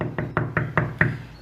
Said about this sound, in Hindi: इतने में सोनी चिड़िया के दरवाजे पर दस्तक होती है।